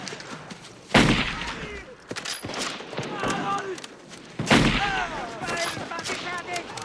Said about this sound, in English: Now you're ready to fire.